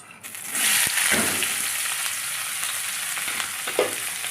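A sudden loud sizzle as capsicum and green chillies hit hot oil for sago pulao, then a steady frying hiss with a few stirring scrapes.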